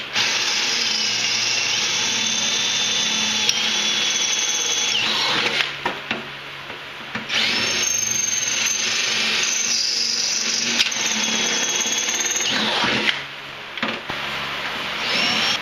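A power drill drilling out rivets on a rail whines steadily at high pitch in long bursts, briefly stopping and restarting, loud and close with a grinding metallic edge.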